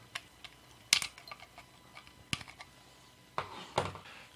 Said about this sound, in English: come back in and cut off all the leads